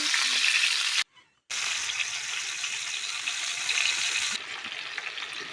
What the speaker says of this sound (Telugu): ఈ రోస్ట్ ఫ్రై చేసుకోవాలి.